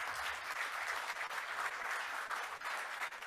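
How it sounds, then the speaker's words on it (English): A summit audience gives a round of applause for four members of Congress, a dense, steady wash of clapping that holds at a constant level throughout. "Give them a round of applause."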